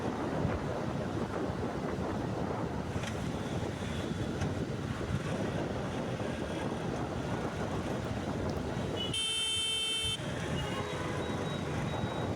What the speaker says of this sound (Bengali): খোলা এই আকাশ এবং ফুরফুরে বাতাসে কিন্তু মোটরসাইকেল রাইড করতে বেশ ভালোই লাগছে